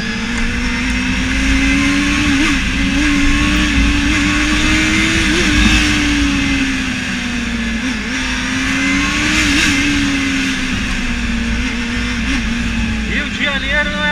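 Steady engine drone of night road traffic in Rio de Janeiro with a vehicle revving and passing close by, continuous and fairly loud, with a voice talking over it.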